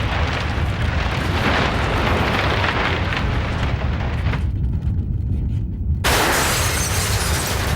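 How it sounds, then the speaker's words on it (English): Glass, masonry and roof tiles crash down during an earthquake in a dense, continuous roar of shattering and rumbling debris, loud and close, with a brief muffled drop before the crashing surges back. "Masonry, roof tiles, signs, and most dangerous of all, glass, all come crashing down."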